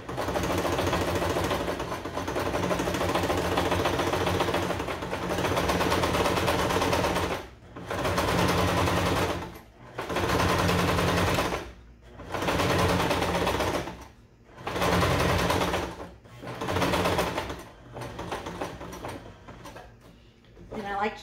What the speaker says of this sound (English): you're going to want to top stitch at 1/8 of an inch